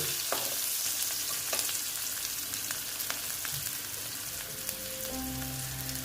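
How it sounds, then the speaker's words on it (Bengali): Onions sizzle and crackle steadily in hot oil, a soft continuous hiss with occasional pops and a clink near the end. "পেঁয়াজ কুচি দিয়ে দিলাম পেঁয়াজটা ভেজে নিচ্ছি"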